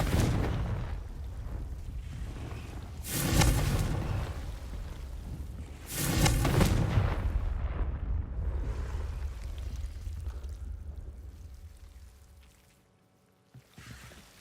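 The Confringo explosive spell in Hogwarts Legacy, a video game, blasts twice in succession, each a loud booming burst over a rumbling ambient bed that fades toward the end.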